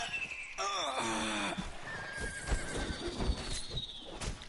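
A horse in the Conan Exiles video game gives a loud, wavering whinny that falls in pitch. Clip-clopping hooves and scattered thuds of in-game fighting follow nearby.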